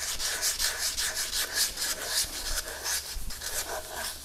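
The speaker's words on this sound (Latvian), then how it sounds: "Es to slīpēju tos dēlīšus, tos šķīvīšus izslīpēju." Small wooden boards and plates are hand-sanded in steady rhythmic strokes, a close, dry, rasping scrubbing that repeats evenly with no voices.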